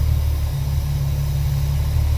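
A Holden Commodore engine with a Varajet carburettor idles steadily and close by, a low, even rumble with a slight dip and recovery in revs while the idle is being adjusted.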